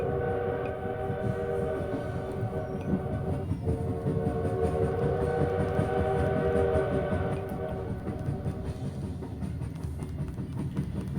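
A recorded train soundscape plays steadily through a Sony speaker from the Sleepbug Pro sleep app, with a continuous rumbling roll, faint clickety-clack and tonal horn-like hum running throughout.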